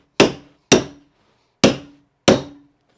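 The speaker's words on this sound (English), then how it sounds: "we're gonna bang those staples in" A hammer drives carpet staples into a stair runner: four sharp, loud blows in an uneven rhythm, each ringing briefly before silence, with no talking.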